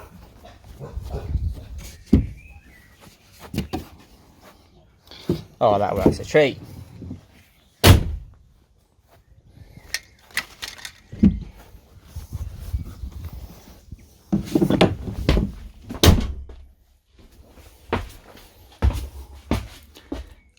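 A single loud van door slam cuts through midway, with rustling, clunks and a person talking before and after.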